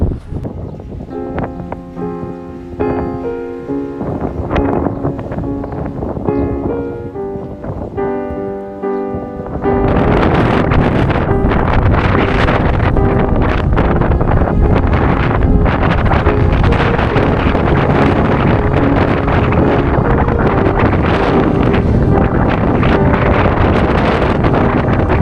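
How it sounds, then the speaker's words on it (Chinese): Strong wind blasts across open ground in Inner Mongolia near an abandoned hut, starting after quieter sounds and then roaring hard and steadily against the microphone for the last fifteen seconds. "起风了，走不了了。"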